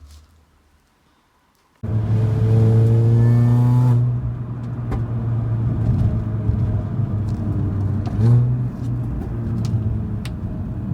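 A Mini Cooper S R53 fitted with an aftermarket exhaust manifold bursts loudly to life after a near-silent pause, revs hard for a couple of seconds, then settles into a throaty idle with one more blip of the throttle.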